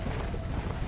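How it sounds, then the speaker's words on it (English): Hooves of a horse galloping in Red Dead Redemption: Undead Nightmare pound in a fast, steady clip-clop rhythm, loud and close throughout, with game ambience beneath and no speech. "My horse is much faster than yours."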